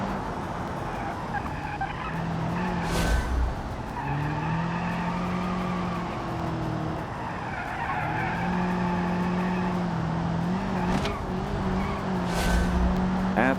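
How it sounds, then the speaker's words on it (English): A race car in BeamNG brakes hard down a hill on the APM track, tires squealing in long, wavering screeches over a steady engine drone, with a few sharp knocks between them. "Lots of the tires speaking there as we go down the hill and try to brake as hard as I can."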